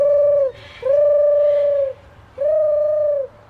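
A voice mimicking a pigeon's call, three drawn-out cooing notes at a steady, unhurried pace, close and clear with no other sounds.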